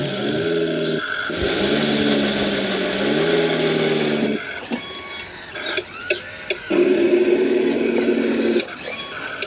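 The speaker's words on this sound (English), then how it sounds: "So let's fire the wheel loader up." A radio-controlled wheel loader's electric motors whine and stutter while it scoops gravel, with pitch shifting as it moves, brief pauses, and mechanical rattles and clicks, close and fairly loud.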